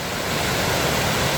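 Huai Mae Khamin waterfall in Kanchanaburi sends out a steady, full rush of falling water, loud and close, with no other sounds.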